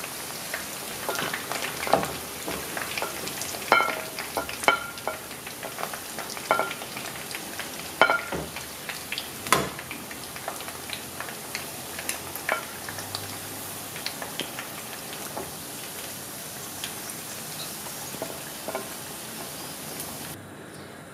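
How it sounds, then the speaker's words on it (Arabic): Chicken pieces fry in oil for a crispy Korean-style dish, giving a continuous soft sizzle scattered with irregular pops and spatters that sound like rain. The crackle stays moderately close and even throughout, with no voices. "بعد ما تحمرو قطع تاع الدجاج على هذا الشكل"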